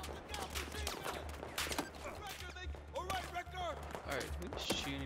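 Rapid gunfire bursts crackle through a Battlefield 4 campaign firefight, with repeated shots and sharp impacts spread across the scene, mixed with game speech and effects.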